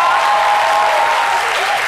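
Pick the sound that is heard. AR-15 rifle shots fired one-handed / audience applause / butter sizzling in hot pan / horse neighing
audience applause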